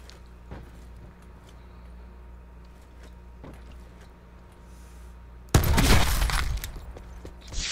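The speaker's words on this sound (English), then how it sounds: "I heard a shot come from back there" Gunfire in Call of Duty: Blackout: a few faint distant shots over quiet ambience, then an abrupt loud burst of sustained close shooting and roaring noise near the end.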